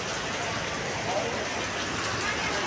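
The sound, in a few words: heavy rain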